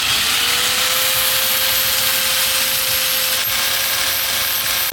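Vintage BMX handlebar ends being cut through with a power tool, a loud, steady metal-cutting rasp with a constant whine that runs unbroken for the whole stretch, with no talking.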